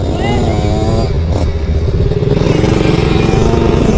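A dirt bike engine revs hard for a wheelie, loud and close throughout, its buzzing roar rising and falling, with people talking over it.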